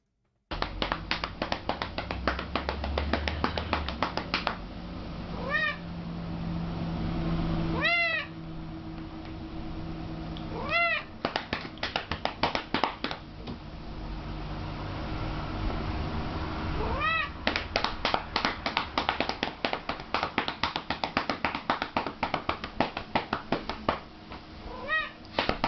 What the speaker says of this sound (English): that kitty likes his bum spanked